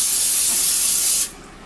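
Canola cooking oil from a spray can gives one steady hissing burst at close range, lasting just over a second before cutting off.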